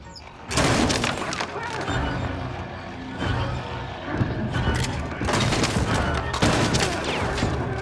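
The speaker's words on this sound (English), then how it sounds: "He's going to shoot at you real quick" An enemy fires repeated gunshots in the Little Nightmares 2 game, arriving as loud, dense bursts of shots and booms over several seconds with short gaps between volleys.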